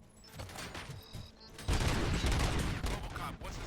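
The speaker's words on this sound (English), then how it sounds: "Gunshots? What's going on?" Gunfire in the RoboCop: Rogue City video game: scattered shots first, then a dense, sustained fusillade of rapid bursts with heavy low rumble, loud and continuous to the end.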